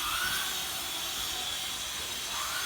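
A modified pickup truck engine running with no exhaust pipe gives a loud, steady, hissing roar that holds constant throughout, with no voices.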